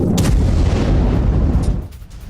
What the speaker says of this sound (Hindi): ये देखिए आप, कितना बड़ा धमाका हुआ और नुकसान कितना बड़ा हुआ होगा मिसाइल गिरने से